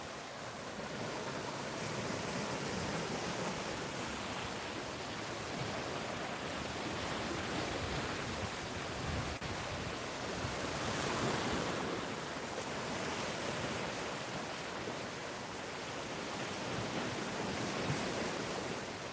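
Ocean waves wash onto the beach at Clearwater, Florida as a broad, continuous roar of surf with gentle swells in loudness, steady and unbroken, with no voices over it.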